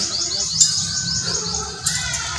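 A wild bird heard outdoors at a park, giving short, bright chirps and tweets, a few calls repeated over a faint background.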